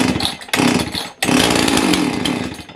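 A Jonsered 670 chainsaw engine cranks and then catches, running loud and close with a rough, uneven roar and brief dips between pulls.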